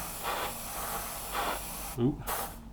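Short bursts of paint spray hiss, several in succession, close by with a low voice murmuring in the background.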